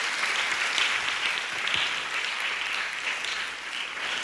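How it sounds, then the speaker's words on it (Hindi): An audience in a hall claps for the volunteers who hung the balloons, a dense, sustained round of applause that stays loud and even for several seconds without any speech. "उनके लिए ताली बजाओ"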